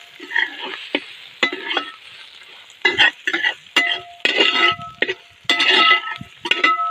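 Spices, onions, ginger-garlic paste and masala frying in oil for Ooty biryani, with repeated stirring bursts of sizzle and occasional utensil clinks against the pan, close and fairly loud, no talking.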